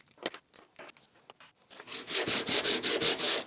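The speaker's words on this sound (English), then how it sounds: "So I'm just giving this a light sanding here." Light hand sanding on wood for a drill driver case: a few short soft scrapes followed by a quick run of even, rhythmic rubbing strokes, close and quiet.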